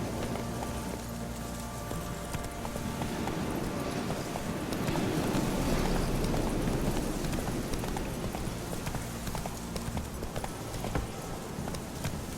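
A horse gallops in The Witcher 3 game, steady rapid hoofbeats over a constant background of ambient game sound, even and unbroken throughout.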